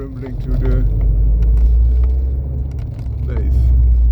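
Abarth 595C Turismo convertible with automated manual gearbox and Record Monza exhaust, top open, rumbling close by with a steady deep idle and slight swells in volume.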